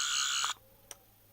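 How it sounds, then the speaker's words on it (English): Second electronic effect from a toy third Doctor sonic screwdriver: a bright, buzzy warbling tone held for about half a second, then cut off, followed by a brief faint chirp, heard alone. "that sound is what you would probably hear on most classic Doctor Who"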